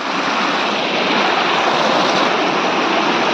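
Waterfall and fresh stream water at the Sandhida Mahadev site, a steady, loud, broadband rush of falling and flowing water, close and continuous, with no voices.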